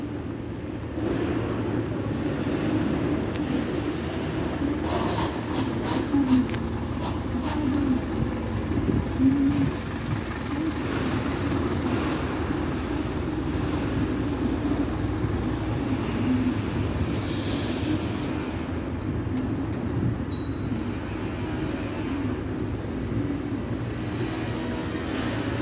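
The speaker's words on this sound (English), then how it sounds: "This is the train station." Steady crowd and traffic ambience at a train station in Japan, with a continuous low rumble of passing rail or vehicle noise and scattered faint clatter, heard alone without talk.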